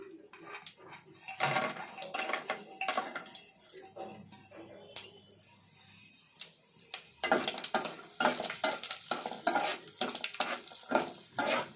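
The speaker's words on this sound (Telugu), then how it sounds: "శనగిత్తనాలు ఇలా పగిలిపోయేంత వరకు పెట్టుకోవాలి" Sharp irregular crackles and pops from chana dal and seeds in hot oil over a low flame, close by, with occasional clinks of a utensil against a pan; louder bursts toward the end.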